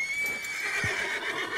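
A horse in Red Dead Redemption 2 lets out a loud, drawn-out whinny close by, its pitch wavering and gradually falling.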